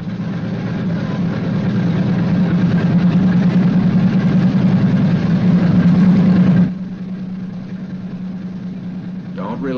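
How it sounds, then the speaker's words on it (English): A Boeing B-29 Superfortress radial engine, wartime 1944 bomber, roars steadily at a loud, low drone for several seconds, then drops abruptly to a quieter, smoother idle hum. "continue to prime intermittently until the engine is running smoothly"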